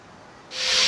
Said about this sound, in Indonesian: karena kayunya keras, jadi digunakan amplas untuk